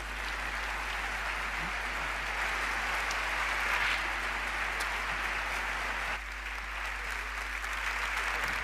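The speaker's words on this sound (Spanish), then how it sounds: "Y ahora, un aplauso para Mario Alonso." An audience gives sustained applause to welcome a speaker at a talk, a dense, even roar of many hands clapping that holds steady throughout, with a low constant hum beneath.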